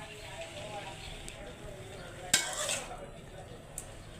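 Potatoes being stirred and fried in a pan for a simple potato bhaji, with a soft background hiss, a sharp metallic scrape of a utensil midway, and a faint clink near the end.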